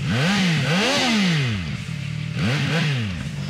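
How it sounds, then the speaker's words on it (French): A motorcycle engine revs hard toward about 12,000 rpm through a brushed aluminium exhaust, rising and falling in two loud bursts with a short lull between them. "On a un beau son enivrant avec le pot d'échappement qui est en aluminium brossé dessous."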